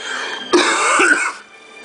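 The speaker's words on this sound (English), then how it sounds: "I have a cough too." A single throaty cough or throat-clear, close and fairly loud, with a quieter hum of background noise before and after.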